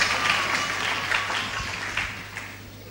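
A church congregation applauds steadily for a few seconds, a dense, moderately loud clapping texture with a low steady hum beneath and no clear speech.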